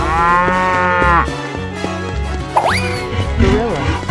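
A long, loud cartoon cow moo opens over bouncy background music, followed by a few brief squeaky effects, in a children's animal-painting cartoon.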